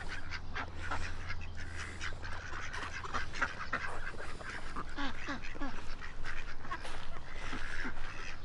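Ducks in a park quack repeatedly in a noisy, overlapping flock, with honking calls mixed in and some faint voices in the background.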